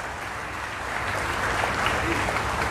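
Crowd applause at a nighttime Malaysian by-election political rally in Chini, a dense wash of clapping that swells steadily and stays loud and continuous throughout.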